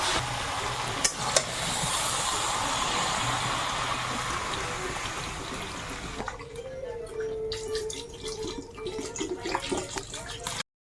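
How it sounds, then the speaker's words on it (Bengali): Water pours into a pot of cooking Malabar spinach and pumpkin with a steady, close rushing splash for about six seconds, then fades to softer bubbling and scattered clinks of stirring. "এবারে অল্প করে একটু জল দেব"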